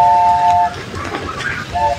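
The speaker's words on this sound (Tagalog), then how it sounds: "sasakay kami sa train." Amusement park train ride at Enchanted Kingdom, with steady rolling rail rumble, a bright whistle-like tone at the start and again near the end, and faint voices in the background.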